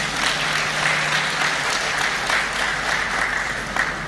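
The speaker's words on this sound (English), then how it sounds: "Please give yourselves a round of applause." A live studio audience at a televised corporate governance event gives a sustained round of applause, dense steady clapping filling the whole stretch at an even level with no talk over it.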